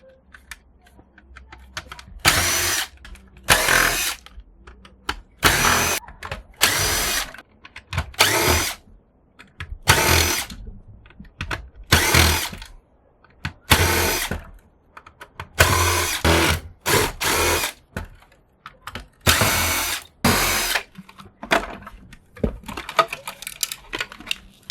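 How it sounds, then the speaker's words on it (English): A power drill removes screws from a cash register in repeated bursts of loud, close whirring, each lasting about a second and separated by short pauses and faint handling noise, with no talking. "let's just remove some screws now"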